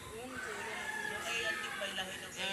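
A chicken clucks and crows softly in fits and starts alongside a wild duckling, with farmyard background noise and a voice speaking at times.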